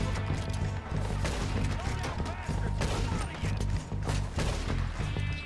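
Repeated gunshots in Red Dead Redemption 2 during the Old Friends mission, dense overlapping shots over game music and action noise, loud and continuous throughout.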